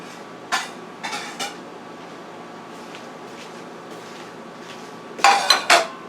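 Metal utensils clink and scrape against a can of salmon as it is cleaned, a few sharp taps near the start and a louder burst of clatter toward the end over quiet background.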